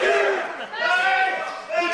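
Crowd at a wrestling tag team championship match, a loud sustained roar of many voices cheering and chanting in unison, dense and close, filling the whole moment.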